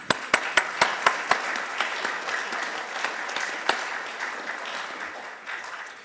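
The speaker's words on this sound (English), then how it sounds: "your efforts deserve another hearty round of applause" Hearty applause from an audience at an evening keynote event, opening with several sharp individual claps before settling into steady, fairly close clapping that gradually thins out.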